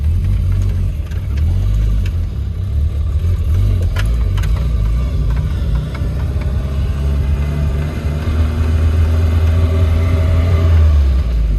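A 1984 Volvo 240 engine pulls in first gear, a steady, close, low rumbling drone that holds throughout with slight rises in revs and no talk.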